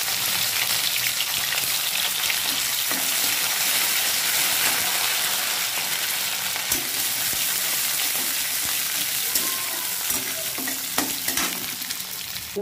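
Onion and fenugreek leaves frying in a pan, a loud unbroken sizzle of hot oil with occasional stirring scrapes and small crackles, close and steady for the whole stretch with no speech.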